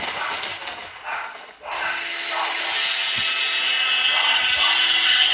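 Continuous grinding of a power saw cutting, a steady high whine with a brief dip early on, fairly close and loud.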